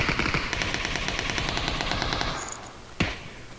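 Automatic gunfire in PLAYERUNKNOWN'S BATTLEGROUNDS, a fast run of shots for about two seconds, then a pause and one sharp, loud shot near the end, with no talk.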